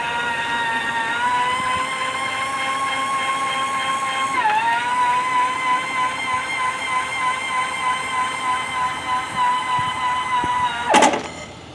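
A steady electric motor whine from a Harmar AL500 power chair lift hums continuously nearby, dipping briefly in pitch, then running on with a slight pulsing before a short clunk near the end.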